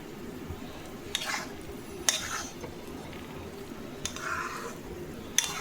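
Banana flower curry being stirred in a pan with ghee, with a few soft scraping strokes of a utensil against the pan over a quiet low kitchen hum.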